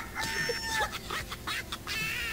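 Chicken clucking close by in a series of short throaty calls, with a faint background hum and no talk over it.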